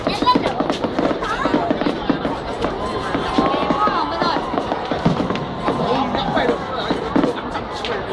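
Fireworks going off in a continuous barrage of pops and crackles at a New Year-style display, with crowd chatter mixed throughout.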